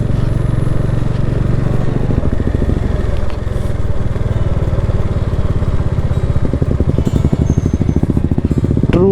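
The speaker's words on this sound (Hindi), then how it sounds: "खेत के बीच ये पगडंडी सी कच्ची सड़क और उस पर हम चला रहे हैं अपनी बाइक।" A motorbike rides along an unpaved dirt track between farm fields in Purulia, its engine putting out a steady close throbbing rumble with rapid pulsing firing beats that grow more pronounced toward the end.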